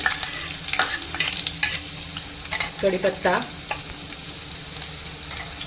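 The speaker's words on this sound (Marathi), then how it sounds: "कढईमध्ये 1 चमचा तेल टाकून त्यामध्ये आपण कांदा टाकून घेऊ" Onion fries in a spoonful of oil in a kadai with a steady sizzle and repeated stirring scrapes, and a voice speaks briefly.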